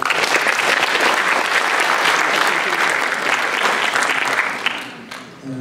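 Warm applause from the audience at a PyCon PL 2016 lightning talks session, dense and sustained clapping that fills the room before fading out near the end.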